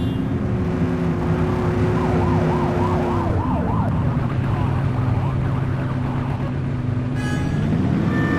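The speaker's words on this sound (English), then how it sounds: "Get on their tail and blip the siren." A police siren wails and yelps in the video game The Precinct over steady car engine noise, with a short, warbling siren burst near the start. The sound is loud and close throughout.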